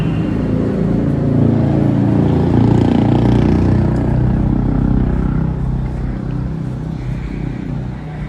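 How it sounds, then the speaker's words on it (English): Vehicle engines recorded and then slowed down, giving a steady, heavy low-pitched rumble with a dragging, smeared texture that holds for about eight seconds before easing slightly near the end. "I got it slowed down so the engines sound kind of weird."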